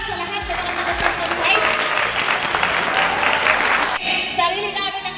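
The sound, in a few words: audience applause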